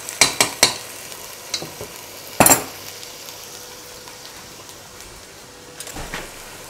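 Chicken fries in a karahi with sharp metallic clanks of stirring, several quick strikes early, a loud clatter midway and a soft background sizzle between them.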